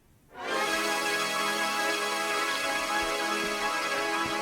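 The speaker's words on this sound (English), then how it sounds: "Really harmonized here for that extra octave sound." A Harmor synth patch harmonized with an added octave swells in after a brief pause and then sustains a dense, buzzy chord, steady and full, with no voices.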